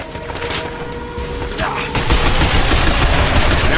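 Loud rapid automatic gunfire blasts at robot enemies in the video game Binary Domain, sustained bursts growing denser and heavier partway through.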